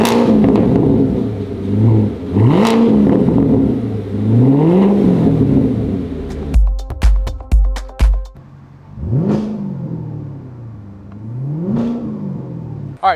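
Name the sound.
Corvette engine revving after muffler delete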